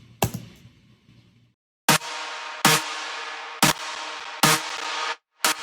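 A bright synth lead plays a few sharp-attacked sustained notes at uneven spacing, broken by dropouts and stuttering from a CPU glitch, fairly loud, with no talking.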